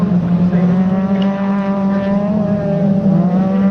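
Ford Fiesta Championship race cars at Snetterton, a queue of them howling past together, loud sustained engine tone with shifting pitch close to the track.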